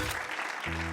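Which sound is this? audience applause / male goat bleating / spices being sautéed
audience applause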